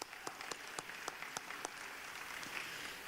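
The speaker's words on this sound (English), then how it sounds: "One more round of applause down there." Applause from the audience at a hall of fame induction ceremony: a faint, distant patter of clapping with a few sharper individual claps standing out, with no voices over it.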